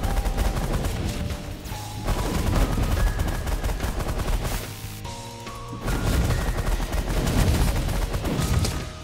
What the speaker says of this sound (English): With triple range, minigun should wipe out everything else.